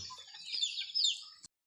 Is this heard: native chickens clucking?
yes